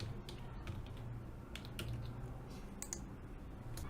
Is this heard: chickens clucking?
no